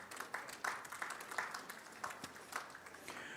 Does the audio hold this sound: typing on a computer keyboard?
no